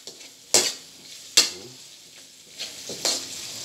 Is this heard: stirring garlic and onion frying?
yes